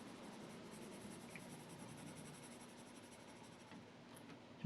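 Wax-based colored pencil burnishing on paper makes a faint, continuous scratchy rub up close, building layers of color in steady strokes with no talking.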